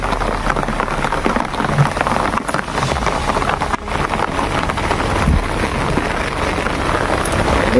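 Heavy rain pours down in a dense, steady roar with gusty wind buffeting the microphone, loud and continuous throughout with no voices.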